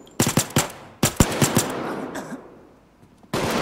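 Gunfire in the Payday 2 heist game: two close bursts of sharp, rapid shots, a brief lull with a fading tail, then a loud dense stretch starting near the end.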